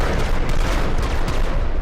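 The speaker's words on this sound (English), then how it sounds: "we're going to utilize the laser rifle and send it" A laser rifle fires in the video game Menace, a short, loud, continuous blast that sounds like a dense salvo of discharges with no pauses.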